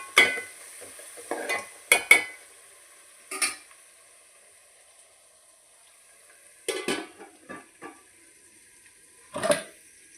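Onions sauté in a pan for a South Indian fish curry, with intermittent scraping stirs and soft sizzling bursts separated by quiet pauses, close and fairly faint.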